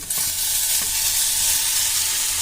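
Masala spices frying in a pan, a dense continuous close sizzle with a few faint knocks of stirring, steady throughout with no talk.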